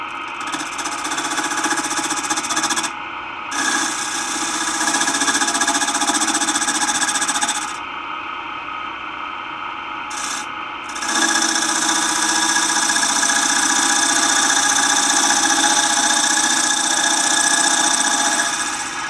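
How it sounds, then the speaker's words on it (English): A 3/8 bowl gouge cuts the rim of a wet cherry bowl spinning on a lathe, giving a loud steady whirring hiss that breaks off for short pauses and then resumes. "3/8 bowl gouge for the rim."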